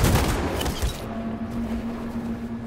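Gunfire volley from Detroit: Become Human, a dense burst of loud overlapping shots in the first second, then a sustained low tone and rumble as the firing stops.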